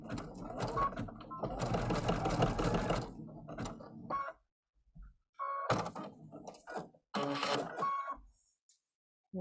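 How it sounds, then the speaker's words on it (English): A sewing machine runs a zigzag stitch to fix a fabric leaf onto a flower for a rope bowl, in a long steady burst, then shorter bursts with pauses, close and fairly loud. "I'm going to just stitch it in place with a little zigzag"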